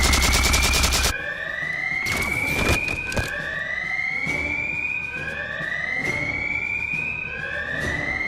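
Halo video game gunfire opens with a loud rapid burst, followed by a few sharp single shots, while a rising, repeating alarm wail sweeps steadily underneath.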